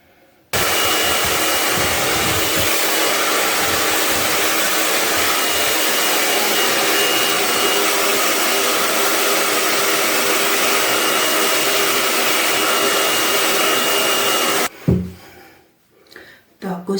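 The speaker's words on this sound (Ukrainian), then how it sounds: "Буду зараз сушити волосся" A handheld hair dryer blows on short hair, a loud, steady whooshing roar that runs continuously for about fourteen seconds close by, then cuts off abruptly, followed by brief handling noises.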